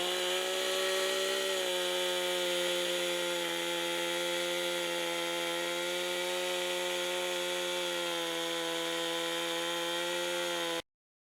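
A chainsaw mills a log on its first cut, a loud, steady, close engine drone with a slight shift in pitch early on, running nonstop until it cuts off abruptly at the end.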